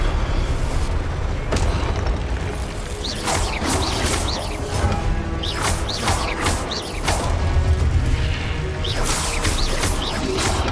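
Confringo blasting spells in Hogwarts Legacy, firing in a fast repeated series of bright bursts and booms over a constant rumbling, clattering battle din, loud and continuous.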